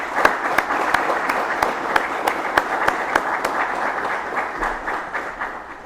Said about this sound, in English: Ladies and gentlemen, please give the guests of 1159 a round of applause.